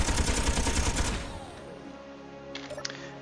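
Rapid automatic gunfire from a weapon in the space sandbox game Space Engineers, a loud dense burst lasting about a second, then a trailing hum with a couple of faint clicks afterward.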